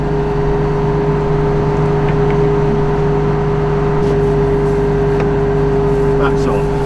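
A tractor PTO switched on and running while the linseed is being combined, giving a loud, constant mechanical drone with steady tonal hum and whir under a faint voice.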